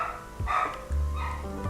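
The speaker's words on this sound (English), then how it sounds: "it's the next door neighbor's dog." A next-door neighbour's dog barks twice, two short, moderately loud barks from a slight distance over a quiet background.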